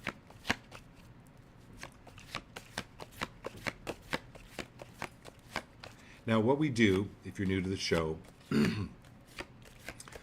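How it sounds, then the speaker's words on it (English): Playing cards shuffled right next to the microphone, a string of sharp riffling snaps and taps, with a person speaking over part of it. "I shuffle the cards like this. I know I'm shuffling by the microphone."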